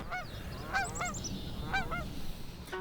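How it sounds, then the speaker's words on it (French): Geese honking in a wetland during a nature outing in Abitibi-Témiscamingue, with several distinct nasal honks scattered across the moment over a low steady rumble of background noise. "c'est un petit peu d'écouter les oiseaux."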